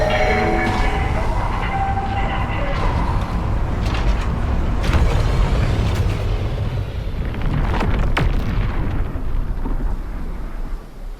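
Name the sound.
UESC dropship arriving in video game Marathon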